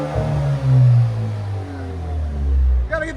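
A 2019 Alfa Romeo Giulia 2.0L turbo with a straight-pipe exhaust revs hard up close, a loud droning roar that rises, dips, climbs again and then cuts off sharply at the end.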